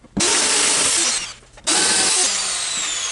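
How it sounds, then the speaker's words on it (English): A power drill with a short spade bit bores two holes between floor joists for a wire run. Two loud, close bursts of high whine are separated by a brief drop. "I only have to drill a few holes"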